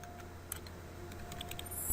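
Commands for a Cisco ASA 5510 firewall being typed on a computer keyboard, with light, scattered key taps close by against a steady low hum and no voices.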